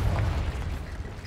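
A Confringo spell blast from the video game Hogwarts Legacy, a dense low rumbling burst that holds loud and steady for about a second, with no voices over it.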